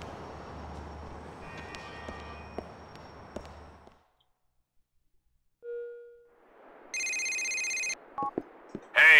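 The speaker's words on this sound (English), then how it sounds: "I was in the shower and I heard the phone ringing" A cellphone in GTA IV rings with a short, loud electronic trill that breaks a near-silent pause, followed by a few sharp game sounds.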